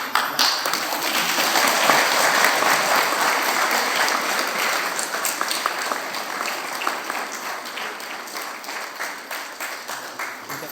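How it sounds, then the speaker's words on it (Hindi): Wedding guests break into sustained applause during a garland exchange, a dense wash of many hands clapping together that holds steady and slowly fades over about ten seconds. "और समय सब ताली बजाए उनको बधाई देने"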